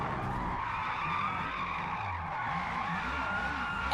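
Tyres skidding and squealing as a 1200 HP McLaren Sabre hypercar drifts through corners in Forza Motorsport, a steady sustained screech under a continuous engine roar for the whole stretch, with a sharp burst at the very end.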